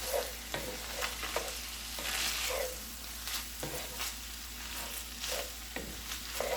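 Taco meat and onions frying in a pan, a steady sizzle with repeated scraping stirs every second or so, close and moderately loud, no talking.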